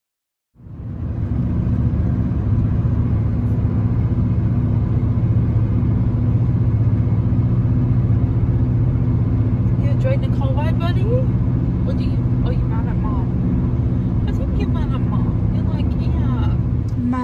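A car engine rumbles steadily at a low pitch from inside the cabin while driving to town, a constant drone that starts abruptly and continues throughout, with faint higher noises and brief talk partway through.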